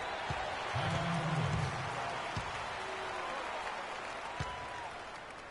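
Video game basketball arena crowd cheering after a dunk on PS4, a steady broad roar of applause at moderate level with a few sharp thuds and squeaks over it.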